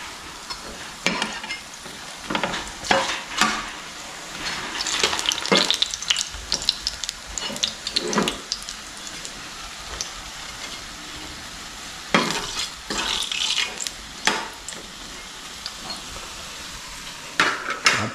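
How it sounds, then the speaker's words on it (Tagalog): Bananas and sweet potatoes fry in a pan, a steady sizzle with intermittent stirring and scraping clinks of a utensil against the pan, close up, with no talk. "Luluto po tayo ng ulam. Pritong saging."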